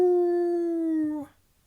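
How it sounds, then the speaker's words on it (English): A sharp, high-pitched beastly howl from a visual novel game holds one steady sustained tone, sagging slightly in pitch before cutting off abruptly, loud and alone. "Something is howling. It's too sharp and high-pitched to be a stray dog."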